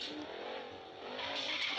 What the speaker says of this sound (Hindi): और चेक करते हैं इसके एग्जॉस्ट।